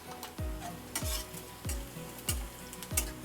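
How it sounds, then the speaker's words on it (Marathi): Onion with turmeric, garlic and ginger sautés in a pan, a steady sizzle broken by five evenly spaced scraping stirs of a spoon against the pan, heard close with no speech. "आता हे जरा आपण परतूया 1 मिनिटभर परतले बघा।"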